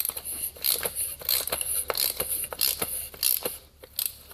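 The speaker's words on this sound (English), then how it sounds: "then you're going to use the same oil filter cap to tighten it up" Oil filter cap wrench tightening the oil filter on a Mazda 3 during an oil change, giving a run of close, sharp ratcheting clicks and creaks in an uneven rhythm with no talking.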